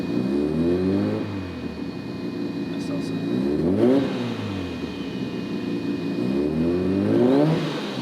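A turbocharged car engine fitted with a new turbo free-revs, rising and settling back repeatedly in sweeps, with a faint whine on top and brief talk mixed in.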